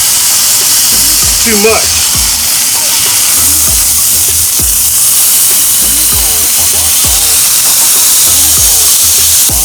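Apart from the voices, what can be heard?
smash burgers sizzling on a Blackstone flat top griddle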